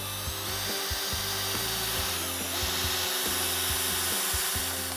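A power drill driving a screw into a wooden board for a raised garden bed, the motor whirring in short bursts with brief pauses and shifts in pitch as the screw bites into the wood.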